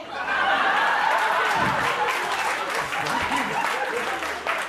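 A stand-up comedy audience breaks into loud, sustained applause mixed with laughter and chuckles, a full room clapping continuously with voices rising through it.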